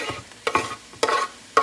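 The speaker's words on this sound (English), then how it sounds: "I'm now adding a little bit of 2 garlic cloves" Two garlic cloves drop into a hot pan for chicken fricassee, giving a few short bursts of sizzling and stirring in close succession, loud and near with no talking.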